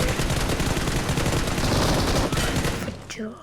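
Dense gunfire and blasts fill a mobile shooter game match, a loud, sustained barrage of rapid shots and explosions that thins out near the end as a voice briefly cuts in.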